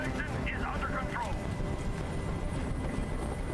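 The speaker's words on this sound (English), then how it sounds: "Tell that helicopter to get out of here." A helicopter hovers in the Detroit: Become Human video game, a steady, dense rotor drone that fills the scene evenly from start to finish, with faint voices beneath it.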